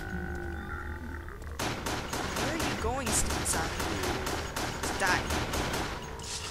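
Rapid gunfire at zombies in Resident Evil Darkside Chronicles, a steady run of loud close shots in quick succession after a brief lull, with someone talking over the shooting.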